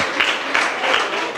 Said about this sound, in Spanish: un fuerte aplauso para el hermano